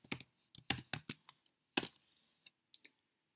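Keys clatter on a computer keyboard while a command is typed into a terminal: a few rapid bursts of close, crisp clicks separated by short pauses, with no voices.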